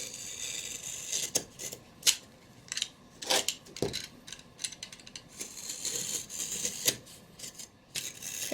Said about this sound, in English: Just take your knife, carefully cut off the canvas.